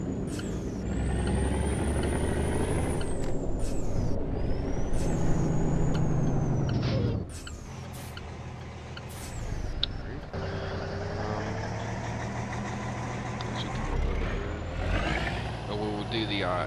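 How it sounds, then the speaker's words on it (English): Engine braking from a Peterbilt 579 stretched-chassis truck in a trucking game mod, a loud, steady low rumble with air-brake hisses and sharp high squeals, dropping to a quieter drone midway before building again, with no talk over it. "So it's not straight pipe when the Jake brake's on"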